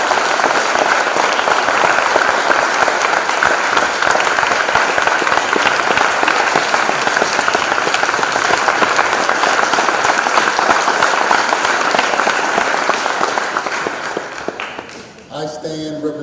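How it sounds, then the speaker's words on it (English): A full round of applause from the audience at a Tougaloo College event, a loud dense wash of clapping that holds steady and then fades toward the end as a voice begins. "let's give him a round of applause"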